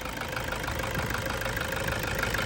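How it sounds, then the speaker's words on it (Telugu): A 2012 Toyota Innova V diesel engine settled into a steady idle, a dense even mechanical rumble with light knocking texture that holds constant and close throughout, no talk. "సింగిల్ సెల్ఫ్లో అయితే వెహికల్ స్టార్ట్ అవుతుంది."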